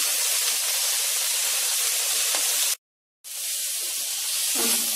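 Spices frying in a pan for vegetable macaroni pasta, a steady loud hiss and sizzle with a brief cut to silence partway through, then the sizzling resumes.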